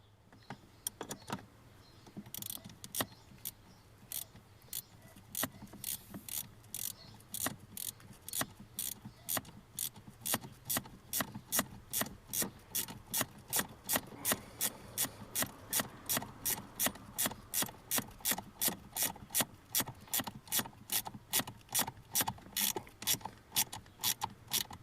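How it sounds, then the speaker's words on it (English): A ratchet reinstalls a 10mm bolt while replacing the brake light switch on a 2011 Chevrolet Suburban, giving a long run of close, crisp clicks that begin sparse and settle into a steady rapid rhythm with no talk. "go ahead and reinstall a 10mm bolt"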